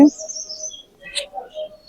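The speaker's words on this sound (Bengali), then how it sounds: "আমি কথা কম বলে পাখিদের সাউন্ড শোনাই" Birds chirping and tweeting in short bursts at a bird park in Pelling, West Sikkim, a few high calls scattered over two seconds with quiet gaps between them.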